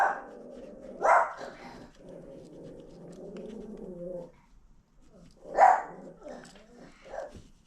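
A dog indoors barks at someone outside, with two short, loud bursts about four seconds apart. A person talks quietly between the barks.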